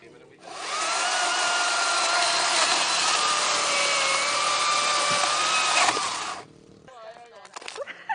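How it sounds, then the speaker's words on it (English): A big chainsaw cuts straight through logs at a beach campsite, a loud steady whine holding for about six seconds before cutting off, with people chatting faintly afterward. "that is a big chainsaw. It does a good job, doesn't it? It goes straight through,"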